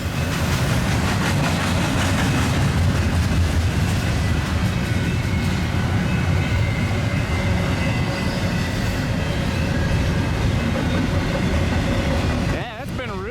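A double-stack freight train rolls past on the rails, a loud, steady rumble and clatter of wheels and cars that fills the whole stretch without a break and fades slightly at the very end.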